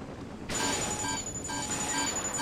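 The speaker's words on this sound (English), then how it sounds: "I cannot control this helicopter!" A steady mechanical whine with a high tonal hum and broadband rush from a helicopter in Saints Row 2, holding continuously and fairly loud throughout.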